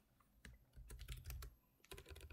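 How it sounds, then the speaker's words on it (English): Keys on a computer keyboard clatter in irregular bursts of quick taps with short pauses, close and crisp, with no talking. "We're typing Matthew 8 today."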